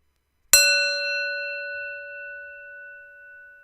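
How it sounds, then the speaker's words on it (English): A single bell struck once and left to ring, a sharp metallic strike followed by a long, clear sustained tone with bright overtones that slowly decays over several seconds, alone in silence. "we listen to the sound of the bell"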